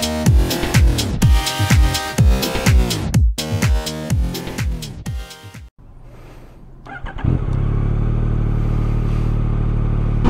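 A 2021 Yamaha MT09 SP motorcycle is ridden hard. Its engine revs up repeatedly through quick gear changes, drops to a brief lull, then settles into a loud, steady roar.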